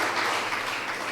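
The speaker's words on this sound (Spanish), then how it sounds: "¿Cuánto le dan un aplauso al Señor?" Congregation applauding during a church sermon, a steady wash of many hands clapping at moderate level with no break, filling the short moment without talk.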